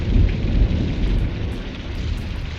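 Heavy storm with a steady roar of downpour and deep rolling thunder, loud and dense throughout, with no voices.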